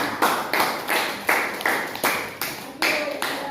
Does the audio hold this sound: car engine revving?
no